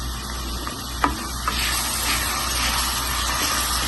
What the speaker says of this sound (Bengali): দেখুন এখন আমি দিলাম আপনার মাংস মাখাই বুকের মাংস আমি দিলাম